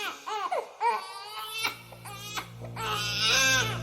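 A baby cries from a TV in short, wavering bursts, broken by brief whimpers and gasps, with a steady low hum underneath.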